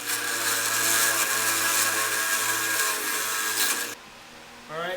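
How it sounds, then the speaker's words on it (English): Drill press boring through angle iron in a workshop, a steady loud whirring grind with a constant low motor hum that cuts off abruptly near the end, leaving quieter room tone and a brief rising whine. "now we're going to go over here to the drill press and drill out the angle iron piece."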